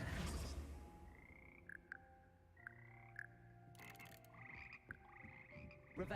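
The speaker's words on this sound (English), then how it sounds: "purchase a slimy yet symphonic frogs that comprise the Hogwarts frog choir" Frog choir in Hogwarts Legacy: clear, pitched croaks from several magical frogs in sequence, sung as a tuneful harmony, close and fairly quiet against a still background.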